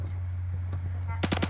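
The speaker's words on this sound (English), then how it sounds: "Dude, I was shooting you." An AK rifle fires in a video game: a quick burst of three loud, sharp shots at the very end, preceded by a low steady hum and brief speech.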